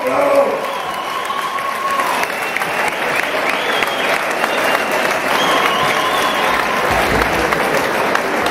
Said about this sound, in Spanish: Fernando Romayo, aplauso.